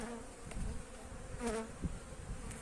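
Honeybees of a local breed swarm around an opened hive during an inspection, their soft, continuous buzzing faint and steady, with a few louder passes as single bees fly close.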